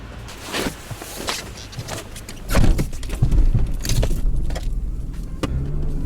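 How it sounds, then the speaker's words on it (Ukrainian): A BMW car is pushed back and started in reverse gear. Keys jingle and there is shuffling nearby, then about halfway through the engine catches with a low rumble and keeps running close by. No one talks. "Зараз штовхну її назад і спробую завести заднім ходом."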